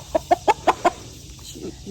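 A hen clucks five times in a quick, evenly spaced run, close by, followed by softer low murmurs.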